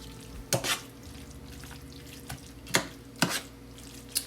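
Ingredients stirred in a pan over a low burner, a soft steady sizzle broken by several sharp utensil knocks and scrapes against the pan.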